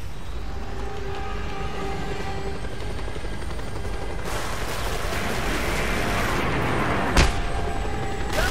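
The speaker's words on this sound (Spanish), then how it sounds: "Es el puto helicóptero, tío." An enemy helicopter in Just Cause 2, the one firing missiles, drones as a steady rotor and engine roar under dense game noise, swelling louder around midway with a sharp bang near the end.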